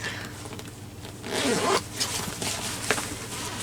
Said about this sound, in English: Oh, the zipper's caught on some of it.